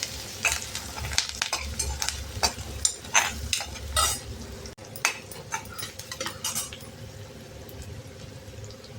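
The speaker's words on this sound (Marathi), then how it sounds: "कढीपत्ता 1-2 मिनटं परतून घ्यायचं" Curry leaves sauté in hot oil in a pan, a bright crackling sizzle with intermittent spatula scrapes and clinks against the pan, close up and without talk.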